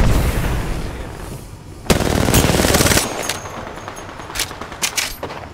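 Bursts of automatic gunfire in the Apex Legends battle royale game, a loud sustained volley near the middle followed by scattered shorter shots and bursts fading toward the end, no talk.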